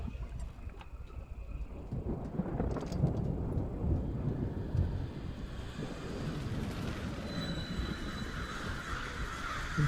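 Steady rain with low thunder rumbles rolling through a Death Stranding game scene, a dense continuous wash of noise with no talk.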